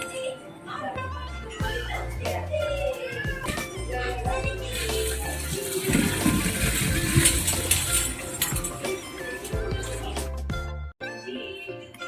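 Boiled cauliflower tipped into a strainer in a home kitchen, water rushing and splashing through for a few seconds in the middle, under steady background music.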